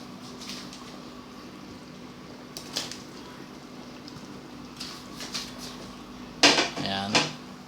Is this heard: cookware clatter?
yes